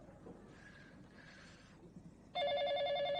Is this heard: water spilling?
no